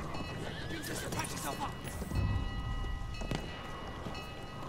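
A horse whinnies and hooves clip-clop in quick rhythm amid Battlefield 1 game sound effects, with people talking over it.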